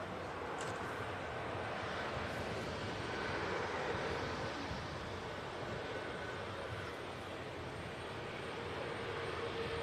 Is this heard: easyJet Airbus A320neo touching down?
yes